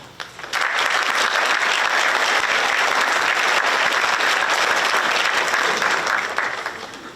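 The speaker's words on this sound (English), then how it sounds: "please join me in giving a round of applause to our" Audience applause for staff at a Granville County Public Schools summer graduation ceremony, a large crowd clapping loudly and continuously for several seconds before beginning to fade, with no talking over it.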